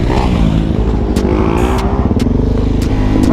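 A Suzuki DRZ400 supermoto motorcycle engine runs loud and close, a steady thumping single-cylinder drone with a slight rise in pitch and a few sharp clicks along the way.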